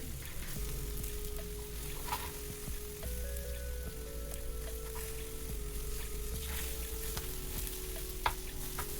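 Okra frying for masala in a pan on high flame gives a steady, close sizzle and crackle with a low hum underneath, unbroken for about nine seconds with no talk.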